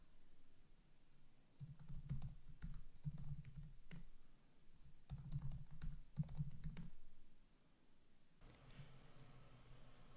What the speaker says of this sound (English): I'm just going to type my name